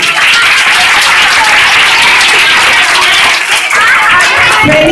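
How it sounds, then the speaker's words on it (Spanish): Loud, dense applause from children and adults at a Children's Day school celebration fills the whole moment as a steady wash of clapping with crowd noise. "vamos a darnos un fuerte aplauso."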